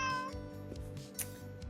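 A pet cat lets out one clear, close meow that trails off, followed by quieter breathy sounds and light shuffling.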